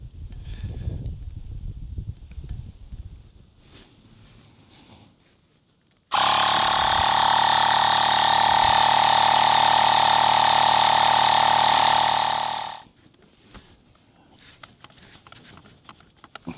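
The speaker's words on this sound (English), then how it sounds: "Not the fastest of pumps, but not in a hurry." A small portable air pump inflates a tyre, a loud, steady buzzing drone that starts abruptly, runs for about six seconds and then cuts off, with quieter handling noise before and after.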